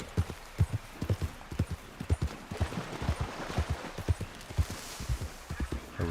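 A horse's hooves clip-clop at a steady walking pace in Red Dead Redemption 2, with close, crisp hoof strikes repeating throughout and faint background ambience.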